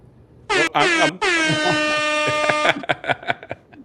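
A loud, blaring air horn sounds in two short bursts, then one long sustained blast in a studio, followed by a few scattered thumps and noises.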